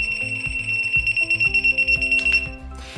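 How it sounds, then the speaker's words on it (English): A Prepared Hero Privacy Pen sounds its burglar alarm after being moved: a steady, shrill electronic tone rings continuously, close and loud, over a rapid pulsing electronic pattern. "In burglar alarm mode, once the device is moved, a beep alarm will sound for 30 seconds."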